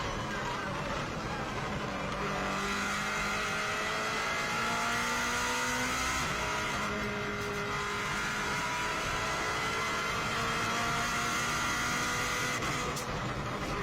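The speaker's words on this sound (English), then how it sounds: "You can see how much quicker this car accelerates from the 120 right the way through to 170." A 650hp race car accelerates hard up a mountain course, engine note climbing through gear changes in repeated rising sweeps, heard steadily and close from on board.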